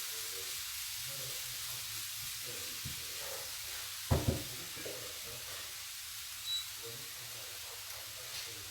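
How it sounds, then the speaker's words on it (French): Vegetables cook in olive oil in a frying pan over high heat, making a faint, even sizzle and hiss throughout, broken by one brief clatter near the middle. "je l'ai mis dans la poêle à feu vif"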